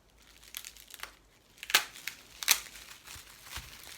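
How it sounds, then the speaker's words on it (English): Bubble wrap packaging is handled in a string of crisp crinkles and crackles, with a few louder crunching bursts among softer rustles, close by and with no voices. "forgot about the bubble wrap"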